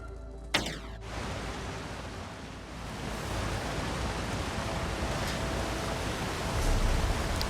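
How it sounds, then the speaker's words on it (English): Rain in Elder Scrolls Online, a steady broadband patter of downpour that swells slightly after a sharp thud near the start and continues evenly throughout. "Oh, it is raining."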